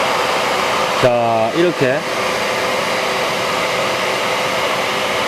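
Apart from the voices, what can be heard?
1600W wet-dry vacuum cleaner with cyclone dust collector sucking debris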